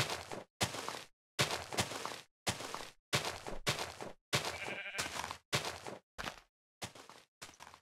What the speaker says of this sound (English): Yeah, I can hear a sheep.